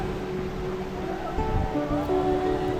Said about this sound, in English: Can you hear the thunderous sound of the waterfall?